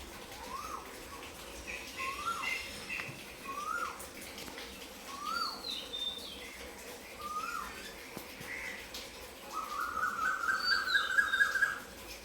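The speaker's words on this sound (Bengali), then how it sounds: "পাখি ডাকছে বন্ধুরা, শুনতে পাচ্ছ?" Small birds chirping outdoors near a home kitchen: short scattered calls at a moderate distance, then a quicker run of repeated high notes near the end, over a soft steady background wash.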